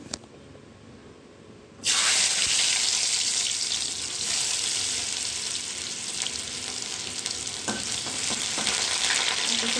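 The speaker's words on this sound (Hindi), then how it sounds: "तेल हमर गरम हो गलानी। एबे मु एथिरे अदा रसुण पकाउची।" Ginger and garlic drop into hot oil in a pan, setting off a sudden, loud, continuous sizzle that carries on steadily to the end, with no talking.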